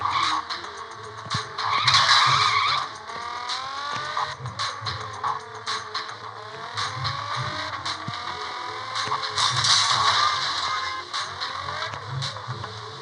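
A car in an online gangster video game skids and screeches, with tire squeal over a steady engine hum and repeated scraping bursts across the stretch, loud and close.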